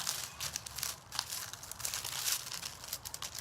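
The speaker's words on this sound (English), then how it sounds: "I'm just going to use this as my saran wrap. It just helps to like smooth it out." Plastic wrap crinkles softly as it is smoothed by hand over a paper napkin, a continuous faint rustling with small crackly spikes and no speech.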